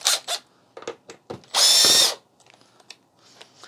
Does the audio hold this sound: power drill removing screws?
yes